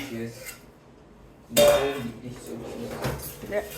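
A plate taken out and handled in a kitchen, a sharp ceramic clatter and clink midway followed by lighter knocks of dishes and cutlery, with a voice faintly in the background.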